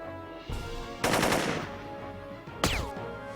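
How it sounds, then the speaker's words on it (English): Gunfire in the tactical game Jagged Alliance 2: two loud automatic bursts, a long one near the one-second mark and a shorter one later, each leaving a ringing tail, over a steady game background. "So I started to fire blind bursts at the enemy."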